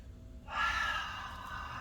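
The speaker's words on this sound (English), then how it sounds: "We're going to be taking those nice deep breaths." Deep breathing during a stretching exercise, one long audible exhale that begins suddenly and fades over about a second, close and alone.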